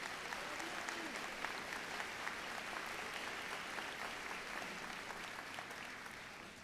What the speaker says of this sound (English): Let's give them a round of applause for their service.